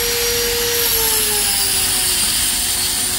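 Honda CBR1000 sport motorcycle with a racing exhaust, its engine holding a loud, steady high whine while the pitch slides slowly downward as the revs fall, close and alone with no talk.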